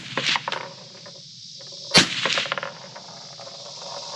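A single sharp shot from a Desert Tech MDRX rifle rested on a Mantis bipod cracks out near the two-second mark, loud and close, framed by quieter handling noises and outdoor ambience before and after.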